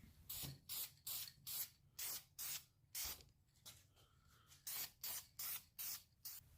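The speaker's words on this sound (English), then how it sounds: "For your first coat of primer, just go ahead and do nice even passes." Short bursts of VHT copper spray paint primer hiss from an aerosol can in even passes over a Nissan 300ZX brake caliper, about a dozen close, loud sprays with brief pauses between them.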